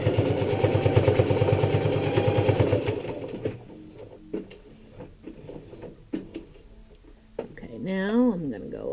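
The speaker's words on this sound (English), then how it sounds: "Needle down, forward, hand cranking," A hand-cranked sewing machine rattles in a steady, rapid rhythm while stitching a jean fly zipper, then stops, leaving softer clicks and handling noises, and a voice speaks near the end.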